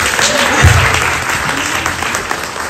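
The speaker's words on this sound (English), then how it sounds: "And of course, a big round of applause for Pankaj Ji from Shine and Rise" An audience at a Mother's Day community program breaking into loud, dense applause, steady clapping from many hands filling the room throughout.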